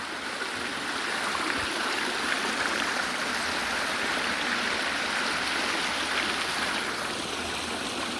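A small stream crosses a road, its icy water rushing and gurgling in a constant, close, loud flow with no voices.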